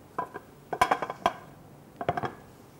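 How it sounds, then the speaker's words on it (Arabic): A cardamom and cinnamon cake is turned out onto a plate, with a few close, crisp clinks and knocks of dishware in two short clusters separated by a brief quiet pause. "انا تو حنقلب الكيكة عندي في صحن"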